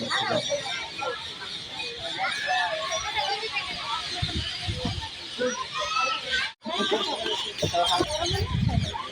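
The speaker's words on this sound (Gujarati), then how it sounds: "પંખી ને અહીંયા પોપટ ને એનો બહુ કલરવ છે" Busy parrot chatter fills a banyan tree in Jamnagar, many overlapping squawks and calls, with people talking and children's voices mixed in throughout.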